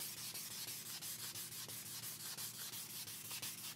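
An old rusty axe head is scrubbed by hand with an abrasive, giving a close, rhythmic rasping of quick back-and-forth strokes, about four per second, with no voices.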